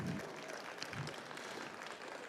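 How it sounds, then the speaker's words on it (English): Crowd applause for sponsors at an auctioneer championship held at a stock show and rodeo, sustained clapping from a large audience that sounds fairly distant and faint. "If you would please give those sponsors a big round of applause"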